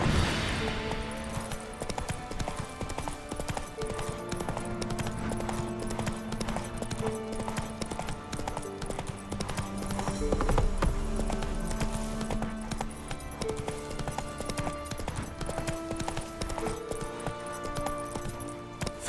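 Galloping horse hooves pound in a steady, fast rhythm throughout a ride in The Witcher 3: Wild Hunt, with game music playing underneath.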